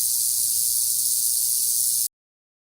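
A snake gives a steady, sharp hiss that holds evenly for about two seconds and then cuts off abruptly, with nothing else audible.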